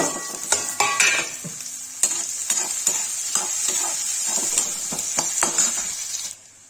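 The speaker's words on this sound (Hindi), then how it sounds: "देखिए गाइस प्याज डालो, तो लाल मसाला" Chopped onions sizzle loudly in hot oil in a pan for dhaba-style egg curry, with a steady frying hiss throughout and sharp clinks and scrapes of a spoon stirring at irregular intervals.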